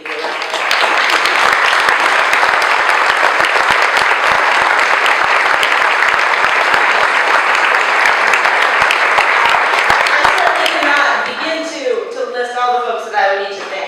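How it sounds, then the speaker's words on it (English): A full room gives a loud, sustained round of applause at an experiential education breakfast, dense clapping that rolls on for about ten seconds before fading out as a voice begins speaking. "We can give you a round of applause."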